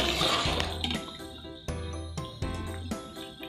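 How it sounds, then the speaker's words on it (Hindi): Ten litres of water pour into a large cooking pot for a big chicken pulao, a steady splashing rush that breaks off and restarts in a few bursts, close and fairly loud. "अब 10 लीटर पानी शामिल कर दें।"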